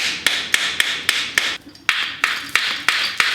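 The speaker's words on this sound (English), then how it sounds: "If you have a soft mallet, you can use it to hit." A soft mallet taps a pivot bearing into a mountain bike frame in roughly ten sharp, close knocks at a steady pace, with a short pause midway.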